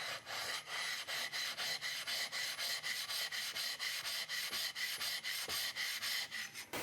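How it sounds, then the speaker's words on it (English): Sharpening water stone rubbed back and forth across a diamond flattening stone, a steady rasping scrape repeating in quick regular strokes, close and loud with no talking. "And flip this over, and we'll rub this back and forth and try to see when those crosshatch marks come off."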